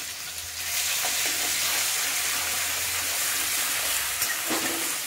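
Garlic paste sizzles steadily in a hot pan for a few seconds, a bright, continuous frying hiss with occasional faint stirring clicks and no voices.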